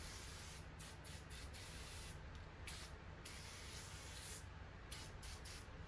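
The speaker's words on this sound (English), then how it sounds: "Okay, let's spray it." A spray bottle of Dollar Tree foaming glass cleaner hisses in a series of short, quiet bursts, several quick pumps in succession with brief pauses between them.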